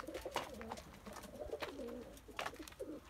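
Pigeons coo in a loft kept by a Turkish bird fancier, a steady run of soft, throaty calls repeating close by with no talk over them.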